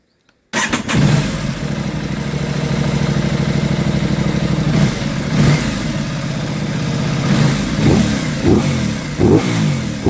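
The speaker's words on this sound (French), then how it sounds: "Un petit démarrage, moteur bien sûr, il est chaud." An Aprilia RS 660 motorcycle fires up after a brief silence, then idles warm with a steady engine rumble and several sharp throttle blips revving up and dropping back, loud and close.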